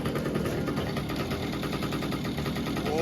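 A newly built drift go-kart engine on a cold start runs at a steady idle, with a continuous low mechanical rumble and vibration filling the whole stretch and no voices.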